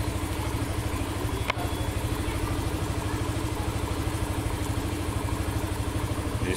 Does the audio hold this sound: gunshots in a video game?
no